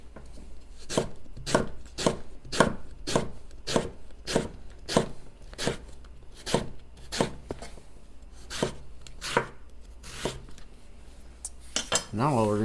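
A knife cuts quartered eggplant into slices on a board, about twenty sharp, evenly spaced chops close by at a steady rhythm, with a faint background hum and no talking.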